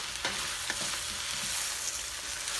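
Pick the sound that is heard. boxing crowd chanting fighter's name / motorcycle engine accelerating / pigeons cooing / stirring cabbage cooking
stirring cabbage cooking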